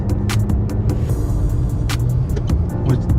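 Heard from inside a moving car, a steady engine and road rumble continues throughout, with light clicks and rattles scattered over the drone.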